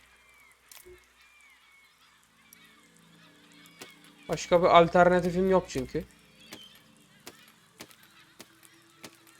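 Birds in the Besiege video game let out a loud burst of rapid honking calls lasting about two seconds, bracketed by sparse clicks and faint ambience, while someone speaks Turkish.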